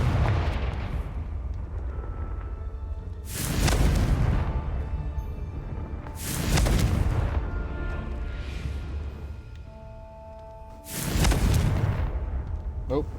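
Confringo fire spell cast in Hogwarts Legacy, three heavy booming explosions spaced a few seconds apart over a continuous rumbling game background, loud and close.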